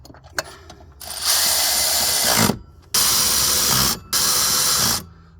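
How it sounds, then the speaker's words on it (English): A cordless ratchet tightens the water pump pulley bolts on a 2009 Ford F-150 in three loud, close whirring bursts, each lasting about a second, separated by short pauses. "we'll be able to use this cordless ratchet and it'll suck them up nice and get them pretty tight"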